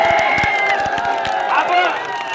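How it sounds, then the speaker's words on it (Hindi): A crowd at a political rally in Jaipur applauds and cheers for the media, with continuous dense clapping and shouting blended with loud voices throughout. "मैं तालियां चाहूंगा ये वाले मीडिया के लिए"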